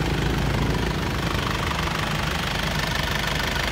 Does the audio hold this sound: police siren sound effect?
no